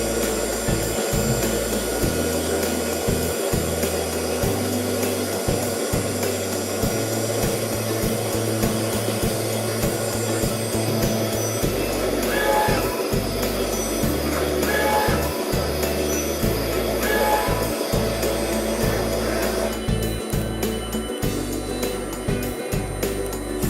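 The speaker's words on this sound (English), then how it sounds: "at this point the machine will initialize and begin the print job" A Roland LEF-12 printer initializes and runs a print job, giving a steady mechanical hum with rhythmic whirring and repeated carriage-like pulses throughout, with no talk.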